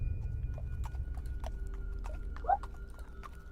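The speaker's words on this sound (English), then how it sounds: "you hear the sound of a horse walking down the street." A tabletop game sound effect of a horse walking down a street: a faint, steady, distant clip-clop of hooves over a low rumble, with one brief whinny-like cry near the middle.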